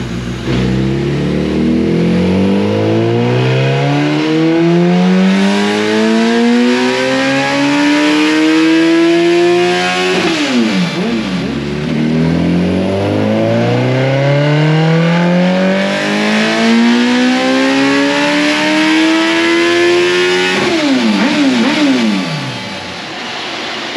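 A 2005 Suzuki Hayabusa motorcycle engine on a dyno, loud and close, screaming up through the gears in two long sweeping pulls, each climbing then dropping sharply at the shift before rising again.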